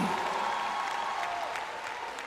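Sustained audience applause in a concert hall at a stage show with an orchestra, a steady wash of clapping that holds at even strength for about two seconds, with a faint tonal hum underneath.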